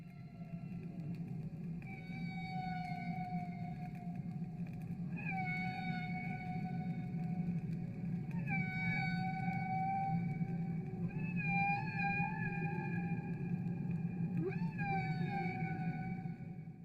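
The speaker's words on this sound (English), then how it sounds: "put a microphone under the water and said, listen to this, whales sing" Whale song recorded through an underwater microphone: long tonal moans and rising, bending calls repeat every few seconds over a steady low ocean rumble, clear and fairly close.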